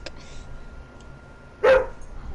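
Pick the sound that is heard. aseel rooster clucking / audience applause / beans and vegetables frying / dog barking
dog barking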